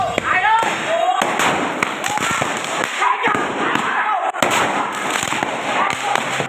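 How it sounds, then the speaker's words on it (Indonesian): Firecrackers go off during a teenage gang brawl on a street in Cengkareng, West Jakarta, a dense run of sharp bangs and thuds over loud crowd noise and shouting throughout. "Petasan dilepaskan dari kedua pihak saat tawuran kelompok remaja pecah di Jalan Bojong Raya Rawabuaya, Cengkareng, Jakarta Barat."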